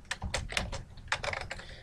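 Fingers type on a computer keyboard while entering values in a spreadsheet, giving quick bursts of close, clicky keystrokes in uneven clusters separated by short pauses.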